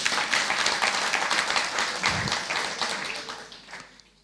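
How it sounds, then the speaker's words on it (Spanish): Church congregation clapping as an offering of praise during a Spanish-language sermon, a broad sustained round of applause from many hands that gradually thins and dies away toward the end. "¿Cuánto le podemos dar una ofrenda de palmas al Señor?"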